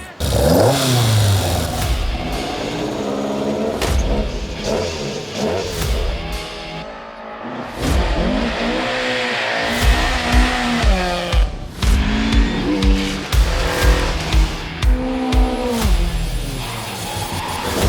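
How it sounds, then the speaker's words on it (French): Vintage rally cars race through the winter classic Legend Boucles at Bastogne, engines revving hard and rising and falling as they pass close by one after another, with bursts of acceleration and tyre squeal. "le déferlement de voitures de rallye du temps d'avant"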